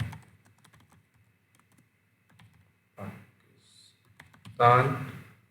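Keys clicking on a computer keyboard while a patient address is entered into lab software. There are sparse, faint taps, then a louder burst of keystrokes near the end, with someone speaking briefly among them.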